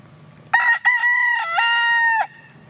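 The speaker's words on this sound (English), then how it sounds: "The rooster's crowing" A rooster crows once, loud and close, a long strained call lasting under two seconds over a quiet background.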